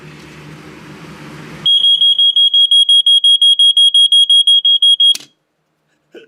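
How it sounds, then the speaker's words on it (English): After a stretch of low background rumble, a Fyr Fyter 3000 smoke alarm with a fast sound and a stuck-down test button bursts into loud, rapid piercing beeps. They run steadily for several seconds, then stop abruptly into near silence. "The test button got stuck."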